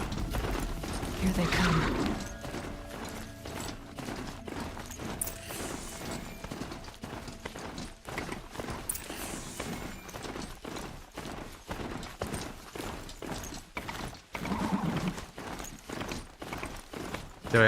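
Galloping mount hoofbeats in Horizon Zero Dawn, a steady clip-clop rhythm running throughout with mechanical clanks and a brief whinny, while someone talks over it.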